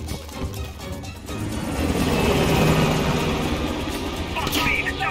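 A helicopter flying off in Call of Duty Cold War, a loud, steady rotor and engine rumble that swells and holds, mixed with the bustle of game action.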